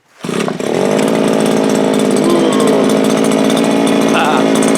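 Viper gas ice auger engine starting after a pull, catching quickly and settling into a loud, steady buzzing two-stroke idle close by, with slight pitch wobbles.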